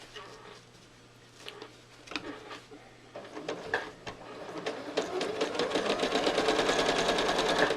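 A sewing machine stitches through a quilt in quick, steady bursts, its rattling run growing louder and more continuous toward the end, with faint talk in the background.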